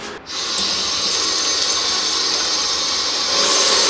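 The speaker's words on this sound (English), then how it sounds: "Okay, so I'm just gonna wash this rice 3 times" Rice being washed under a running kitchen tap, a steady, fairly loud rush of water pouring into a bowl in the sink, continuous and alone after a brief dip at the start.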